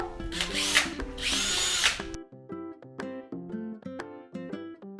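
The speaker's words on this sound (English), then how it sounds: "I love power tools." A power drill installs kitchen cabinet hardware in short whining bursts that rise and stop in a stepped rhythm, close and clear with no talk.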